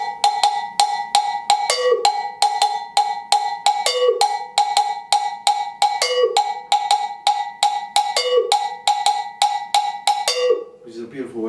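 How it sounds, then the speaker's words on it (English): A Ghanaian metal bell rings a steady repeating 6/8 pattern of bright strokes, with a lower damped note recurring each cycle, loud and close, alone without voices. "this is a bell from Ghana"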